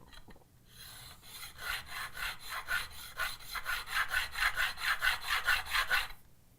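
A spokeshave with a very hard iron takes repeated shavings off wood, giving a steady series of close, rasping strokes that grow stronger toward the end before stopping.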